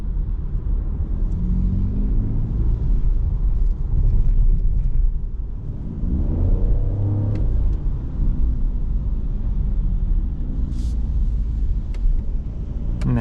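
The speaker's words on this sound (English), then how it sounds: "we have the pronounced sound in the sport mode" Opel Mokka Hybrid 145 engine in sport mode, a steady loud low rumble with rising and falling tonal sweeps, as if accelerating, heard from inside the cabin at night with no talking.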